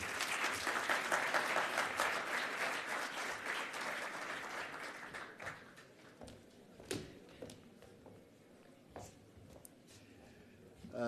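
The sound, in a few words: applause at a summit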